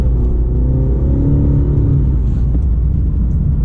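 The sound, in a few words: Cadillac CT5 Sport accelerating from a standstill in Sport mode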